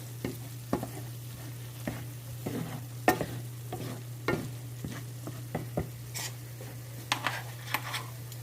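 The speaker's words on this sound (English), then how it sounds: "And just mix all this together again." Homemade chili being stirred in a pot, with a steady low hum underneath and a string of soft, irregular scrapes and knocks of the utensil against the pot, close and fairly quiet, no voices.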